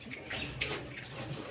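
A pigeon coos softly and briefly indoors, with a low, faint throaty call and no talk over it.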